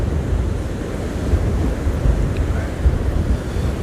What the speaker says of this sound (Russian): ветер вот просто поменялся и подул холодный